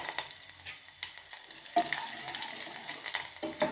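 Crushed garlic cloves sizzling in hot oil with crackling mustard seeds, cumin and curry leaves for a tempering, a steady close frying hiss with scattered pops and sharp spatters, no talking.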